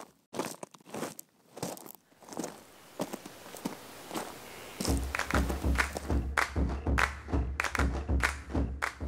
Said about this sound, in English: I'm going to use that to recreate the footsteps